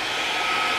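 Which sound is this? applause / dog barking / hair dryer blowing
hair dryer blowing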